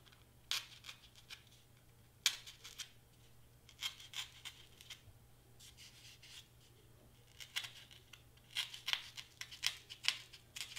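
Scissors snip through craft paper in short, faint, crisp cuts, scattered irregularly in small clusters in a quiet room.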